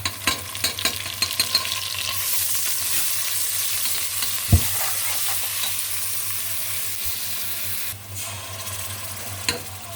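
Onion paste sizzles and fries in oil with cinnamon, bay leaf and mace, a steady loud hiss broken by scraping stirs near the start and a few sharp knocks of the spoon against the pot.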